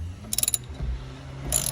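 A wrench loosens a tight nut on a GTR steering wheel, giving a quick burst of four or five sharp ratcheting clicks, then a low strained creak and a second brief rasp of metal.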